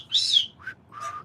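A Victoria cockatoo gives a few short, bright whistles, a loud first note followed by two softer rising ones, close by and alone.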